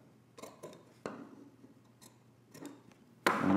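Scissors snipping the corner of a fabric sewing pattern piece, a few sharp close cuts spread over a quiet few seconds, ending in a louder rustle of cloth.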